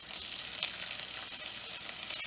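Ginger, garlic and green chili paste sizzling in a hot pan, a quiet, steady hiss with small crackles and a couple of sharper pops, no voices.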